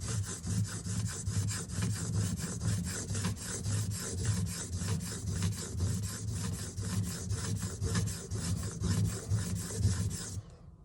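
A file or sharpening stone rasps in steady, rhythmic back-and-forth strokes across a soft steel scissor blade, close and continuous for about ten seconds before stopping abruptly.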